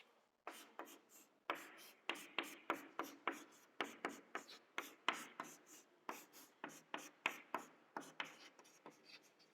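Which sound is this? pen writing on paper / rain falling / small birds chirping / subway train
pen writing on paper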